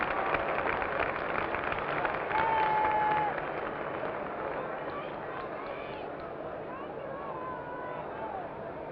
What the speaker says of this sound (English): The crowd responds with some applause.